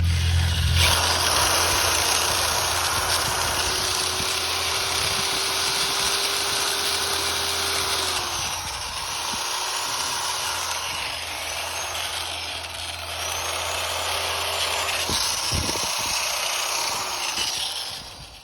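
A power tool with a wire wheel cleaning bolt heads on a cabover truck, a steady, loud whirring whine that briefly eases and cuts out near the middle, then spins back up and runs on, close by.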